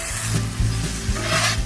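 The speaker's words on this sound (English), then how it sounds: "Mix these guys together." A spoon stirs pan sauce ingredients in a hot cast iron pan, with a brief scraping swirl over a soft sizzle and no voices.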